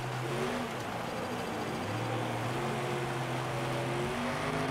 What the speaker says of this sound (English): I'm only giving it half throttle right now, and it's kind of still spinning the wheels